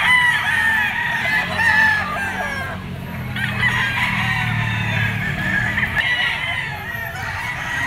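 Yellow-legged gamefowl bull stags crow and cluck, with overlapping drawn-out crows from several birds close by and low clucking running underneath for the whole stretch.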